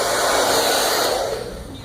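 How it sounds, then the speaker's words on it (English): Blow dryer running steadily during a haircut, a loud close whooshing hiss of air that fades slightly toward the end. "use the blow dryer"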